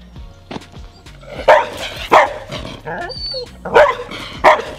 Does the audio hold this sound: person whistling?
no